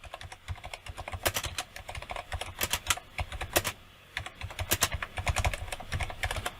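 Keys clatter on a computer keyboard as text is entered in Photoshop, with irregular bursts of crisp clicks, close and clear, brief pauses between words and no talking.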